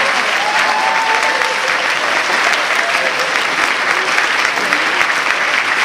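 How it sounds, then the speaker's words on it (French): Dense, steady applause from a large audience at the opening ceremony of a gaming convention, the Toulouse Game Show, sustained loud and even throughout with a faint voice or whistle briefly audible early on. "Fabien, on peut l'applaudir, Fabien, le réalisateur."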